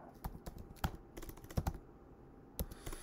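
Quick keystrokes on a computer keyboard as a macro name is typed in an Excel spreadsheet, an irregular run of close clicks over a few seconds with a brief pause in the middle, no talk.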